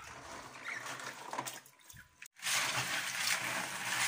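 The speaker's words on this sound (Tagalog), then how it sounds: "Pang-4 na paglilinis sa tubig." Mussels being rinsed in water for the fourth time, a steady close splashing and trickling wash that breaks off briefly, then returns louder and fuller.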